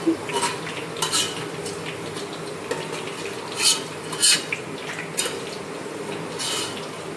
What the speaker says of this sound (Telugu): మంచిగా వేగుతున్నాయి. ఆనియన్స్ వేగాయండి, తీసేయాలి.